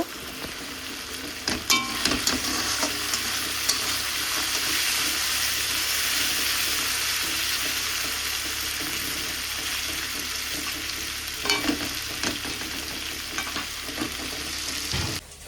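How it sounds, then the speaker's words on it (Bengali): Potatoes fry in a pan with a steady, dense sizzle that runs the whole time, broken by a few sharper crackles and scrapes, with no voices. "এদিকে বসিয়েছি আলু ভাজা"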